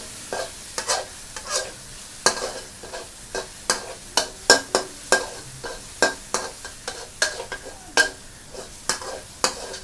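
Garlic and chili stir-fried in a pan, a Thai home dish with long eggplant and fresh shrimp, heard as steady close scraping and tossing strokes in a regular rhythm over a low sizzle, with no talking.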